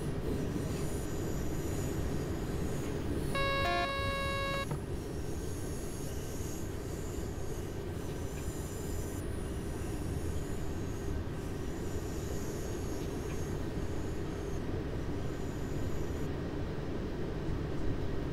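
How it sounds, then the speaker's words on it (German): A BR 425 electric multiple unit rolls steadily into a main station in Train Sim World 4, a constant low rumble of wheels and motors with a brief high tonal squeal early on, no voices. "Fahren wir in den Hauptbahnhof rein."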